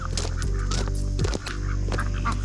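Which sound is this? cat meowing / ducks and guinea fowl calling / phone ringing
ducks and guinea fowl calling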